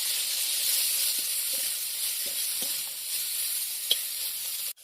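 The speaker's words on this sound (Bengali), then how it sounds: "তার জন্য এবার উচ্ছে ভাজবো।" Bitter gourd fries in hot oil with a close, steady hiss and sizzle, broken by a few soft stirring scrapes and a sharp clatter at the very end.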